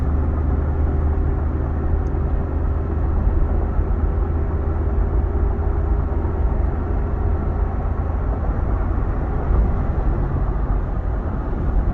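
A 2005 Chevy Trailblazer on a test drive: a steady, loud interior engine drone and road rumble that holds evenly throughout, with no talking.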